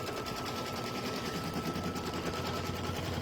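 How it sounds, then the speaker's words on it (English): Sewing machine stitching around a stuffed toy, a rapid, steady mechanical chatter of the needle running continuously and close at hand. "it, I'm just kind of making sure it's not getting shifted as it kind of stitches in here"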